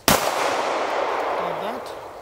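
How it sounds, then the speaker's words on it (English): A single sharp gunshot from a Buffalo Cartridge BRG9 9mm pistol cracks close and loud, then rings out in a long decaying echo. "It is definitely shooting high."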